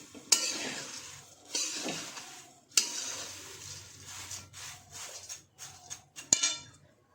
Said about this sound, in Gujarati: થોડી વાર એને શેકાવા દઈશું જેથી કરીને કડક થોડા થઈ જાય